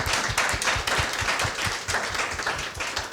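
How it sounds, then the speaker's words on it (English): Conference audience at PDF Days Europe 2025 applauding the organizers with dense, steady clapping from many hands, close and full for the whole stretch, with no talking over it. "maybe round of applause to organizers for this"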